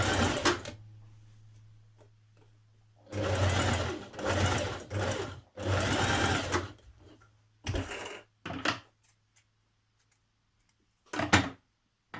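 A sewing machine stitches down a tuck on a Simplicity 9122 dress in several short bursts over a steady low motor hum, then gives way to a few brief clicks and knocks near the end.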